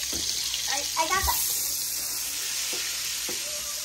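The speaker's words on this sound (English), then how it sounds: "So once the butter melt up here, we're gonna add like the same half a pound of flour in it" Butter melting for salt butter parasad sizzles in a pan with a steady hiss, broken by a few brief louder crackles and a faint voice early on.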